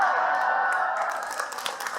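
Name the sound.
audience applause during sermon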